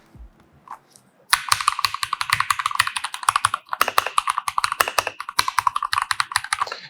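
Keystrokes on a Keychron wireless keyboard start after a quiet second and become rapid, crisp typing, close up and loud, with no talking.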